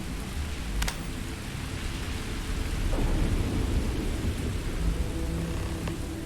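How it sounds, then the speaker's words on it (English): Steady heavy rain hisses through a stormy scene in the video game Starfield, with a low thunder rumble swelling midway; no one speaks. "and it's raining"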